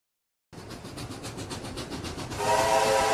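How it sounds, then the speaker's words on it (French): A train at Nsona Mbata station starts up after near-silence, its engine rumbling with rhythmic chugging, then a loud sustained departure whistle enters near the end and rides over the rumble. "Le sifflet de départ du train se fit entendre à la gare de Nsona Mbata."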